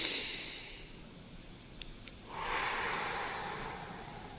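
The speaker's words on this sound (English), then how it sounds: "Breathe in." One slow, deep inhale through the nose as a calming breathing exercise. It is soft and breathy, swelling midway and held steadily, with no talking.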